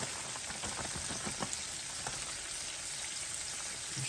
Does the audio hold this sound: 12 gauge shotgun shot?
no